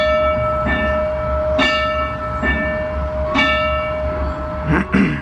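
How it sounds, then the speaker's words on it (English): A locomotive bell at a railroad museum rings in slow, regular strokes that carry a long, steady metallic tone, loud and near over a low rumbling background. "And here's the bell."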